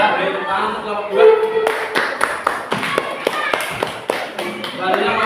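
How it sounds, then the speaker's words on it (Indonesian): A small classroom group claps for a team of students, sparse and uneven with individual hand claps distinct and close, while voices talk over the clapping. "beri tepuk tangan untuk kelompok 2"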